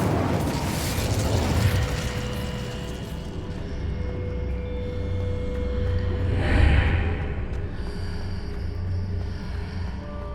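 Fire spell cast in Hogwarts Legacy, heard as a burst of whooshing flame with a muffled boom, rising to a louder swell midway and trailing off over a steady low rumble.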